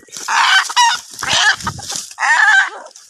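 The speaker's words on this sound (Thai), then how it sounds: "ไก่อ่อนไก่แก่" Chickens cluck and squawk in loud, close bursts, three agitated calls separated by short gaps, with a low rustle between them; the birds are wild jungle fowl.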